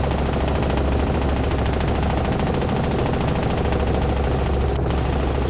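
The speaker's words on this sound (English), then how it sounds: "Got that nice blade flap" Helicopter on a normal approach near gross weight, its rotor blades giving a steady, loud rhythmic flapping beat over constant engine and airframe roar, continuous and close throughout.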